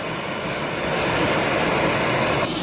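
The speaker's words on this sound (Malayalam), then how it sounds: "മുട്ട അങ്ങനെ കിടന്ന് വേകുന്നുണ്ട്." Eggs boiling in a pot of water make a constant, close, rushing bubble and hiss that holds at an even loudness throughout.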